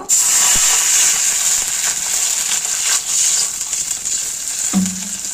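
Water poured into a hot, slightly oily wok to boil Maggi noodles: a loud, steady sizzling hiss fills the clip, and a deeper gurgling, bubbling tone rises near the end.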